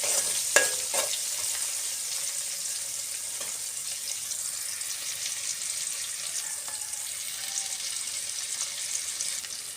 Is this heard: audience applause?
no